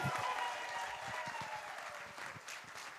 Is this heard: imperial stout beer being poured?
no